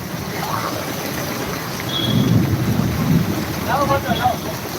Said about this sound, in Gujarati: જો મિત્રો જોરદાર વરસાદ પડી રહ્યો છે